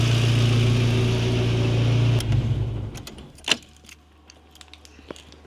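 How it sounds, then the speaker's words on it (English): A car being prepped for a drift event idles with a low, steady hum for about two seconds, then cuts out, leaving scattered light clicks and jingling in near quiet. "I'm supposed to just let the car run for 10 minutes now"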